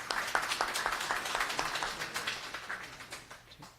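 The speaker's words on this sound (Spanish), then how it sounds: "un fuerte aplauso, por favor," Audience applause after speakers are introduced at a fetal heart ultrasound session, a steady patter of many hands clapping that stays moderately loud, then thins out and fades toward the end.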